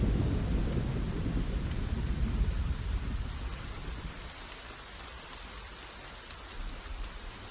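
Video game rain and thunder from The Pillars of the Earth: steady rain pours throughout, with a deep low rumble of thunder rolling under it early on before fading, leaving a dense, hissing downpour.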